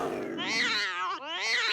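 A mountain lion roars and snarls as a cat-fight sound effect, two loud, drawn-out wavering yowls split by a brief break, close and alone with no talk.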